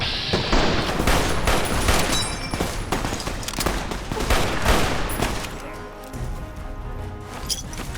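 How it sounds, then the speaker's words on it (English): Battle rifle fire in Fallout: New Vegas, a dense run of rapid shots with crashing impacts and clanks, loud and continuous for about six seconds before thinning out. "Letting off some rounds."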